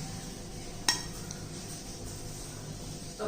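A utensil clinks once, sharp and close, against a plate as a weight-loss breakfast is moved onto it, followed by quiet kitchen background.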